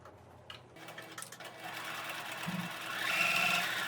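A sewing machine stitches a shirt after a few soft handling clicks, its motor whirring up and growing louder in a steady, close run.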